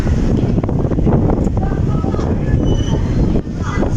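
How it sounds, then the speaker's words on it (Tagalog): Strong seaside wind buffets the microphone in a loud, steady roar on an exposed coastal spot in Batangas, with low rumbling gusts throughout and no clear voices. "Malakas yung hangin dito mga kabisik."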